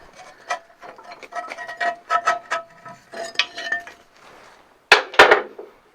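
Metal clanks and scraping knocks from hand-turning the flywheel of a 1948 John Deere Model A tractor, in irregular bursts, ending with a couple of louder close clunks.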